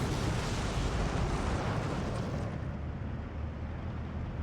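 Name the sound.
artillery barrage explosions in video game Steel Division 2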